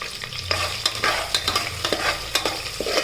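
Ginger garlic paste roasting in a pan for vegetable rice, a steady close sizzle broken by repeated sharp scraping stirs of a spoon against the pan, no voices.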